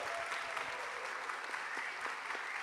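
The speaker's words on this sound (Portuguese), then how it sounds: "depois do aplauso natural e espontâneo que ela vai fazer" Theatre audience applauding at a spoken-word festival in a Curitiba theatre, a dense, continuous wash of clapping from a full house that holds steady throughout.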